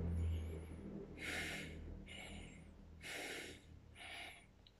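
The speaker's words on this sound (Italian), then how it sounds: "la respirazione media ed è quella che fa alzare il petto" Demonstration of middle or chest breathing, shown as three distinct breaths drawn in and pushed out of the chest at a steady pace, close and fairly loud, with no talk.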